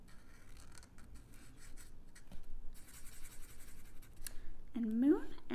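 A pen or marker scratches as a sun decoration is drawn on a sundial, soft close scraping strokes under a person talking, ending in a brief squeak.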